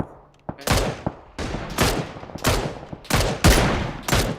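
Sharp gunshots from the Valorant video game during a VCT match broadcast, loud and punchy, fired as single and clustered shots at irregular intervals, with faint voices in the background.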